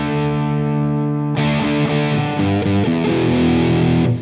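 An electric guitar played through a Maxon SD9 distortion pedal, sustained distorted chords ringing with bright top end, a held chord followed by a quick series of changes, loud and alone.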